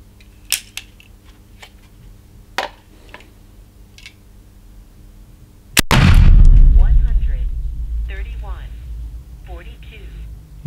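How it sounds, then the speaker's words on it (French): A single loud, sharp blast from a Gomm Cogne GC 54 defense gun firing a light metal mini ball from its top barrel, followed by a long booming rumble that decays. Faint clicks come first and brief voices follow. "je vais essayer de tirer qu'avec le premier canon du haut"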